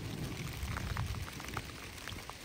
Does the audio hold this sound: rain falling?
yes